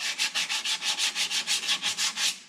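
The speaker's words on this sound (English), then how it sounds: "I'm just going to sand them clean with a piece of 80 grit sandpaper" Brake shoes for a 1978 Pontiac Trans Am being scrubbed by hand with 80 grit sandpaper, a close rhythmic series of about a dozen even rasping strokes with no voices.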